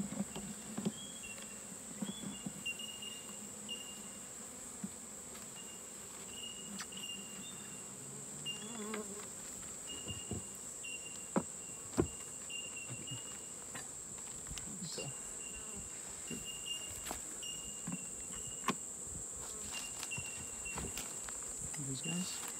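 Honey bees in a small beehive nuke being inspected while a new queen is still in her delivery cage give a faint, steady insect drone with a high thin trill and occasional soft knocks.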